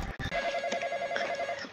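Telephone ringing inside a Roblox police game, a steady electronic ring pattern repeating in close succession, loud and clear with no talk over it.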